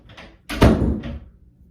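A door closes with a single dull thud that rings briefly in the room, preceded by a faint rustle and followed by quiet.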